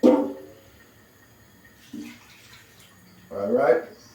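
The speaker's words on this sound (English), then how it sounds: "So the bowl, shake it with the water." Water sloshes in a bowl being shaken to rinse out leftover seasoning while cooking rice and peas, three short splashy bursts separated by quiet pauses.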